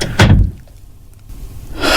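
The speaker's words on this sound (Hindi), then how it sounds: "मैं तुरंत घर के अंदर घुसा और मैंने दरवाजा बंद कर लिया।" A door slams shut in a Hindi horror audio story: one loud, close bang right at the start, then a hush before another noisy swell at the end, with no talking.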